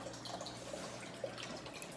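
Water drains and drips through the drain of a home-built aquaponic system, a faint, steady trickle with soft irregular drops and no voices.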